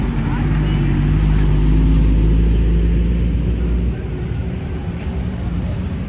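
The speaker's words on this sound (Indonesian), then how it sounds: "Ini pagi hari begini truk-truk biasanya keluar" On a road by a bore pile construction site, heavy trucks and large buses pass close with a loud low engine roar that eases after a few seconds, while someone talks over the traffic.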